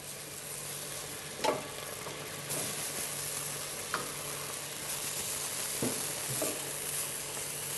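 Steady sizzling of pancakes frying in a pan, with a few soft clinks and scrapes scattered through, no talking.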